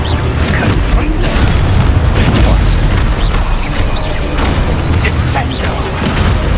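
The Confringo fire spell in Hogwarts Legacy bursts as repeated booming blasts amid dense game combat noise, loud and close, with spell incantations called out over the action.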